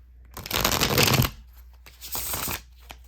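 Tarot cards are riffled and shuffled in two quick close bursts, crisp and papery, with a short pause between them and no talking.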